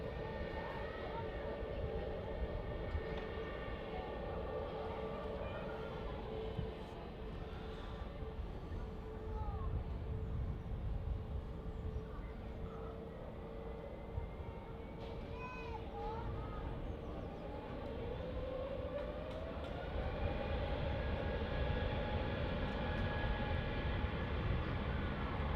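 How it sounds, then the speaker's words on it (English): An Airbus A320neo at Manchester Airport, turning from the Mike 1 intersection onto runway 23 right for departure, gives a steady distant jet-engine drone with a tone that rises and swells louder toward the end. "The A320neo just taking the Mike 1 intersection there onto runway 23 right for the departure."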